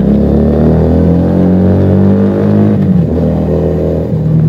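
A Keeway SCR 250V motorcycle fitted with a Mavionic aftermarket exhaust passes by, its loud, deep engine note holding steady and then shifting in pitch as it goes past, with no talking.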